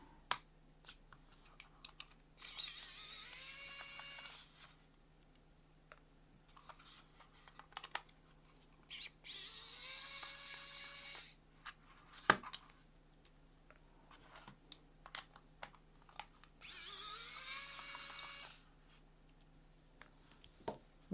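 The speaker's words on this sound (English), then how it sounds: "We're going to be using this electric screwdriver set to get those out." An electric screwdriver removes screws from a Razer Viper V2 Pro mouse during a teardown, giving three separate whirring bursts of a few seconds each, close and fairly quiet, with small clicks and taps between them and no talking.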